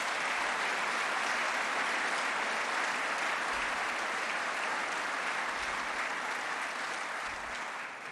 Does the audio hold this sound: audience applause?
yes